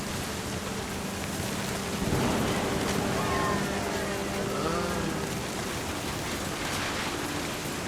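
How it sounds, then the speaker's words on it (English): Thunderstorm in the video game What Remains of Edith Finch: steady heavy rain hisses across the whole scene while a low rumble of thunder swells near the middle, with no voices. "The thunder sounded much too close and full of angry power."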